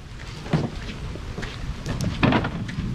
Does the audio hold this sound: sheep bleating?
no